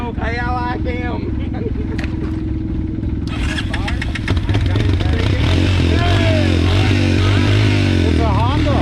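A Honda motorcycle engine runs loudly and steadily for the whole stretch, its throb rising in pitch partway through as it revs, while people talk and shout over it.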